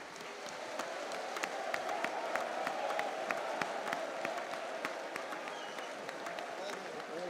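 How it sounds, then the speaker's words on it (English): An audience at the APC National Summit claps steadily, dense sustained applause with sharp individual claps that slowly fades toward the end. "Another round of applause for our wonderful governors"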